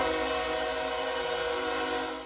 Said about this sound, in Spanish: ¿Qué recuerdos le trae escuchar el silbido del tren?